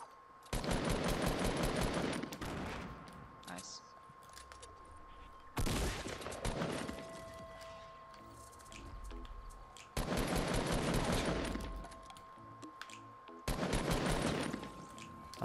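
Rapid automatic gunfire in a Fortnite Battle Royale wager match, loud sustained bursts of several seconds each, about four volleys separated by quieter stretches of game sound, with no talk.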